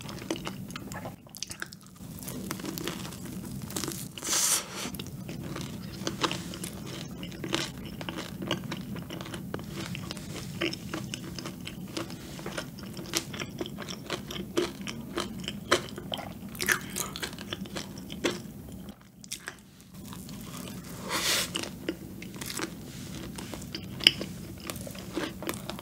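Close-up biting and chewing of Busan cream donuts, soft crunches and moist mastication repeating steadily over about half a minute with brief pauses, quiet and near with no talk.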